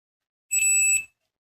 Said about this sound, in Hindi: बीप आ रहा मतलब सही है